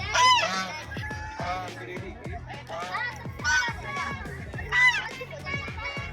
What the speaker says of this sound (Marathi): बदक कसा ओरड